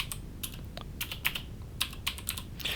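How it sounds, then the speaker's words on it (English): Fingers tap out a short word on a computer keyboard, a handful of light, close clicks in an uneven burst with no voice over them. "we're just going to type the word Python"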